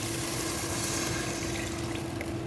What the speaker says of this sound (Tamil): இப்போ தண்ணியை ஊற்றிடலாம்